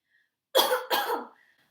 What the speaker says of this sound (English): I have such a bad cough.